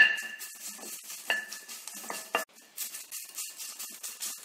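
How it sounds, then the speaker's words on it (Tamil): Curry leaves roasting in a kadai over low heat, light crackles and a few metallic scrapes and clinks of the spoon, quiet and close, no talk. "அடுத்தது நம்ம கருவேப்பிலையை வறுத்து எடுத்துக்கலாம்"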